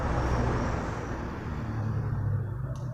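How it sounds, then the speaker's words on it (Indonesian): Continuous road traffic roars past a roadside house, a dense steady rumble of cars and heavy trucks with a faint hiss of brakes near the end. "Suara-suara kendaraan ini sungguh sangat mengganggu."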